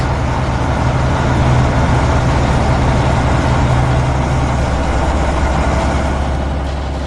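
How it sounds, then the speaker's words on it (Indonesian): Heavy construction vehicles — an excavator, a dump truck and a road roller — rumble as they start moving, a steady loud low-pitched diesel drone with a faint tonal hum that fades near the end. "Ada ekskavator, truk sampah, dan penggiling jalan yang mulai bergerak."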